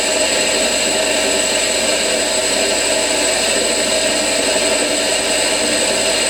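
A metal lathe turns at about 800 RPM while cutting metal into curly strings of swarf, giving a loud, steady whining drone with a high constant tone that holds unbroken throughout.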